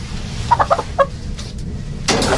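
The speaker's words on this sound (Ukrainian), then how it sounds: "Ой, така маленька курочка." Small hen clucking while being carried, a few quick close clucks and a short squawk over rustling and handling noise, with no talking.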